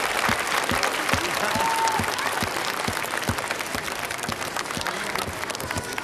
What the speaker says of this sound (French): Et on les applaudit bien fort.